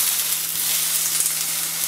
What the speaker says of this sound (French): On a coupé les rondelles, on va les mettre à griller, comme ça, dans une poêle.